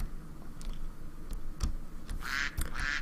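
A duck in a Minecraft-style survival video game quacks in a short burst of repeated calls late in the clip, over a steady background of ambient game noise.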